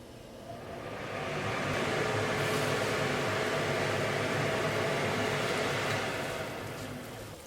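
A kitchen exhaust fan runs over a boiling tadka for a salmon steak curry, a steady broadband whoosh that swells in, holds evenly, then eases off toward the end, with no voices.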